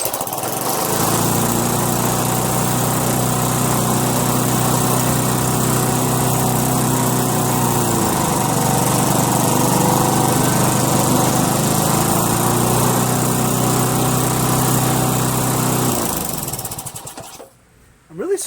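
Murray 20-inch mulcher push mower with a 5HP Tecumseh engine running loud and close at high revs, a steady droning roar with slight pitch dips before cutting off near the end.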